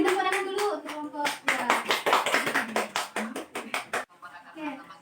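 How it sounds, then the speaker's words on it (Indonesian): A class of seventh-grade students claps for a presenting group, a quick run of sharp, close hand claps with children's voices speaking over and between them before the clapping fades into talk. "Kasih tepuk tangan dulu untuk kelompok"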